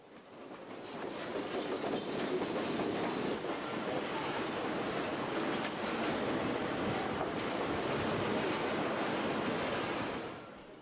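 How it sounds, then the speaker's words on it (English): A TRRA switcher locomotive rolls past a rail depot with a broad, continuous rumble and wheel clatter that swells in over the first second, stays loud for most of the pass, then fades away at the end. "If there isn't one TRRA switcher around, there are two"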